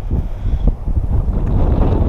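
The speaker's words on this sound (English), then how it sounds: "It's a little windy today." Gusty outdoor wind buffets the microphone in a low, rumbling roar that swells and dips for a couple of seconds, loud and close, with no voices.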